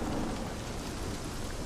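Thunder and steady rain from the video game Days Gone, a soft continuous downpour with a low rumble, heard alone at low volume.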